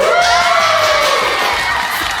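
A young crowd at an MC school event claps and cheers loudly, with excited shouts and whoops rising over the applause, close and sustained.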